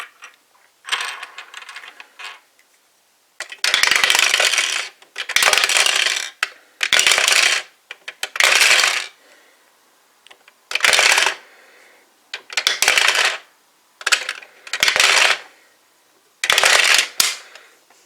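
Plastic Kyutama toy balls from Uchu Sentai Kyuranger are loaded one by one into the Kyulette roulette toy, giving repeated bursts of rattling, clattering plastic with short pauses between, close and fairly loud, with no talk.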